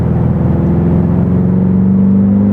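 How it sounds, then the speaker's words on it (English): A 2024 BMW X5M Competition accelerates up a highway on-ramp, its engine a loud, steady rumbling drone heard from inside the cabin, rising slightly in pitch, with no talking. "I'm just going to give you guys a little taste with an quick acceleration here on the on-ramp"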